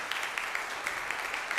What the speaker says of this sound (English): I want to thank Natalie Baszile with a huge round of applause